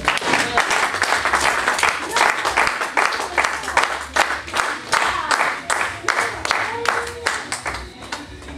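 A church congregation applauds and cheers for the Lord, with steady rhythmic clapping from a crowd filling the room while voices call out over it.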